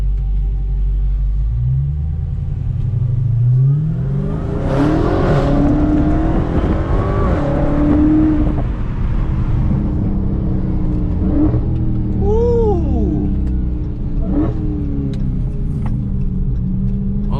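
A widebody SRT Hellcat accelerating hard, its engine rumbling and revving loudly close by, with a rising mechanical whine over a sustained roar as it pulls through the gears.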